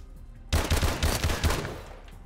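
M1 Irons rifle fire in Call of Duty: Advanced Warfare, a loud, close burst of rapid shots with heavy low thumps, starting abruptly after a short quiet lead-in and ringing out at the end.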